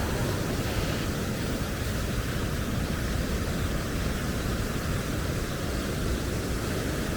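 Strong flood-swollen river current rushing under a bridge after typhoon flooding in Siem Reap, Cambodia, a dense, steady roar of churning water at constant loudness throughout, with no voices.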